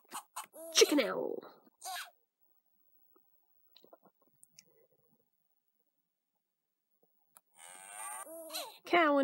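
Cartoonish cow moo from the game Imagine: Babysitters, a short lowing call near the start, mixed with a voice talking, followed by near silence and more talk at the end.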